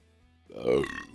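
A single loud burp from a man live on air after drinking sugary Fireball shots, rising abruptly and lasting under a second, close to the microphone.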